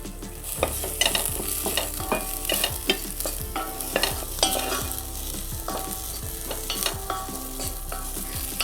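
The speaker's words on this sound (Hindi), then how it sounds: "हमें एक एक करके सारी सब्जियों को सौते कर लेना है।" French beans sautéing in a pan with ghee for a vegetable clear soup, a steady sizzle broken by repeated scraping stirs in an uneven rhythm, close and fairly loud, no voices.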